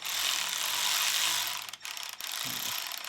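A bolt coated with Loctite is threaded by hand into the electric starter mount of a snow blower, giving a steady close ratcheting and scraping rasp with a brief pause and a low knock near the end.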